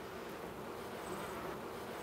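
A dense, steady buzz of many honey bees swarming close by at an opened hive, continuous and even throughout, with no voices.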